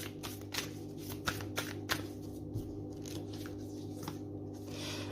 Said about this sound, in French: Allez, on va prendre une petite carte de la lunologie.